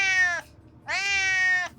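Two clear, close meows from a cat at an animal shelter, the second one longer than the first, with a short quiet gap between them.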